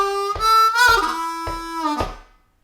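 A harmonica plays a short bluesy lick from a song, four breathy, sustained draw notes in a steady rhythm, close and loud, with the last note held, bent and fading out.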